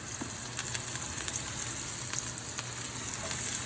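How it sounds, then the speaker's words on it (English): Hard vegetables and onion ends sizzle and fry in a hot pan in a kitchen, a loud steady hiss with scattered crackles and pops and occasional stirring, with no talking. "you always want to hear that nice sizzle"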